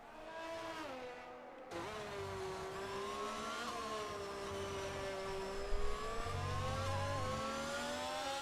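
Race cars in an F1 cockpit racing video game at the French GP drone past with a continuous engine whine that rises and falls in pitch through gear changes, a brief cut near the start, then sustained near revving.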